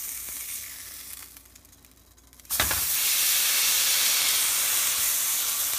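Food flipped in a hot pan bursts into loud, steady sizzling partway through after a quieter stretch, then keeps frying strongly to the end.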